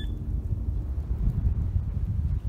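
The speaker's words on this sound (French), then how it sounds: "Non, ça c'est le vent en fait." Steady low rumbling wind buffeting the microphone, a continuous dull roar with no voices.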